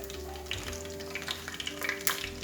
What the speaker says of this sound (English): Once oil is little bit hot, we can add our dry red chili.